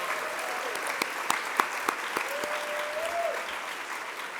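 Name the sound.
audience applause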